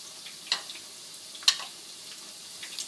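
Fried rice made from basmati rice is stirred in a pan, a faint sizzle broken by a few sharp clicks and scrapes of the utensil against the pan.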